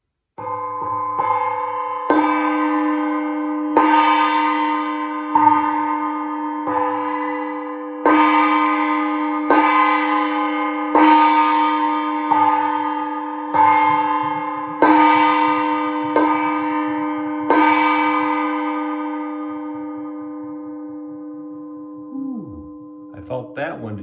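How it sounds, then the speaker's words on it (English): Gong struck repeatedly at a slow, even pace, each deep resonant hit blooming and sustaining into the next. A voice murmurs faintly underneath at times, and the strikes ring loud and close before fading at the end. "let's play the gong"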